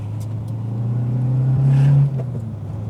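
A Seat 850 Sport Coupé engine drones steadily from inside the cabin, rising in pitch as it accelerates, then dropping abruptly at a gear change, with no talking.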